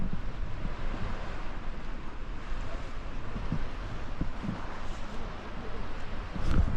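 Stormy sea surf and wind on the Ibiza coast near Cala Salada make a steady broadband roar, with gusty rumble from the wind on the microphone throughout.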